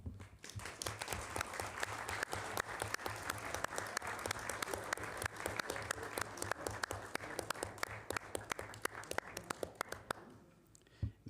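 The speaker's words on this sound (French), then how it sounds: "je vous propose de lui rendre hommage par une petite salve d'applaudissements" Clichy-sous-Bois municipal council members and audience give a steady round of tribute applause, close, crisp clapping from a modest room that tapers to a few final claps.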